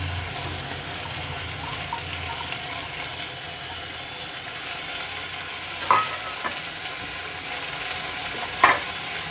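Basmati rice added and stirred in a pan of tomato masala for tomato rice, a steady close sizzling and scraping with a couple of sharper clinks of the spoon against the pan.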